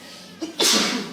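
One sharp sneeze erupts during an interview, a short intake followed by a loud, breathy burst that fades within a second.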